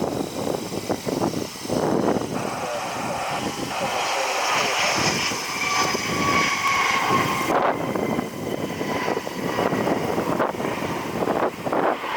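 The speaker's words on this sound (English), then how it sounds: "They are landing on runway 6 right inbound from Las Vegas." A loud, continuous roar of an airliner passing overhead as it lands at Cleveland, mixed with gusting wind buffeting the microphone throughout.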